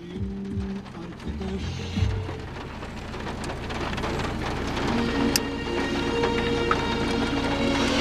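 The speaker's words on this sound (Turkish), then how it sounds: "Yağmur başladı." Steady rain hisses across the whole stretch, with low rumbling and a few clunks early on, fairly loud and continuous with no voices.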